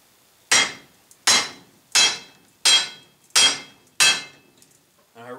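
Six sharp metallic hammer blows ring out at a steady rhythm, each with a short decay, as a crusty truck's U-joint cup is driven out without a press.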